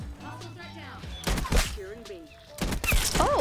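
Gravemark .357 pistol shots in a first-person shooter game, a few sharp bursts mixed with game noise and a voice talking over them.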